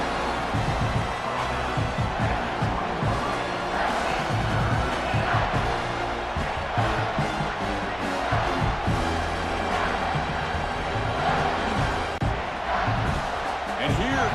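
Stadium crowd noise from the College Football 26 video game during Ohio State vs Michigan, a dense continuous roar of fans swelling and holding steady, with a commentator talking over it.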